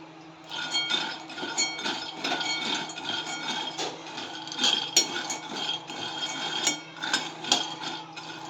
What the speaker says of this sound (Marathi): सर्वप्रथम गॅसवरती एका कढईमध्ये आपण शेंगदाणे भाजून घेऊया